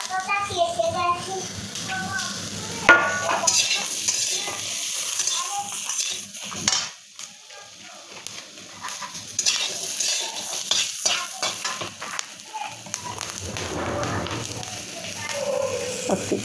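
Cashews and raisins sizzle in hot oil in a pan for pulao with capsicum, stirred steadily with a utensil; scraping and frying noise runs throughout under occasional voices, including a child's.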